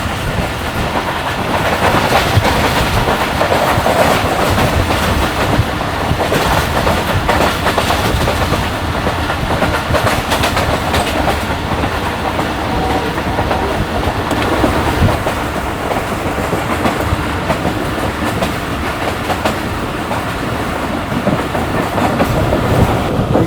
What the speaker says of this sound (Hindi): चलो दोस्तों पूरे 8 बजे ट्रेन हमारी अप्रोच बना रही है सम्मा सट्टा जंक्शन रेलवे स्टेशन पर।